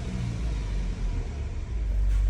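Mazda CX-5 engine held at revs above 3500 rpm, a steady low rumbling drone that stays constant and fairly loud throughout with no talking.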